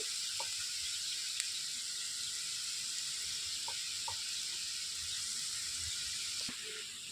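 Grated beetroot fries with onions in a pan over low heat, giving a soft, steady sizzle with a few faint scraping stirs, quiet and without talk.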